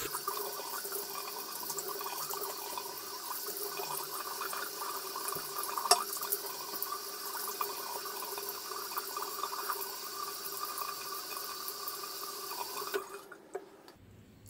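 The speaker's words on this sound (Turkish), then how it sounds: "bir şöyle bir yüzümü yıkayayım" Tap water runs steadily while someone washes their face at a sink after shaving, with a constant close rush and occasional splashes before the flow stops near the end.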